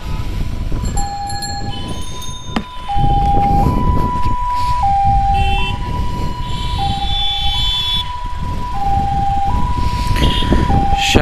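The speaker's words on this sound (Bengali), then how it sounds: "ভাই অ্যাম্বুলেন্স সাইড দেন তো, অ্যাম্বুলেন্স আসতেছে।" An ambulance siren wails loud and close in city traffic, its tone stepping up and down in a steady two-note cycle over a rumble of engines and road noise, with no talk.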